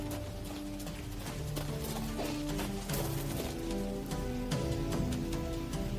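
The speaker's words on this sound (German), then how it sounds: "Sie reitet wie von Sinnen." Rapid hoofbeats of a galloping horse pound along under dramatic music, a steady driving clatter through the whole stretch as a queen rides hard across country.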